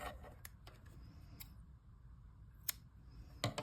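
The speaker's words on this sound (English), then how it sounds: "I'm done with 7 rows, and here I'm gonna just cut my yarn." A few quiet, sharp snips of scissors cutting crochet yarn, spaced unevenly and close by against a near-silent background, with one louder cut toward the end.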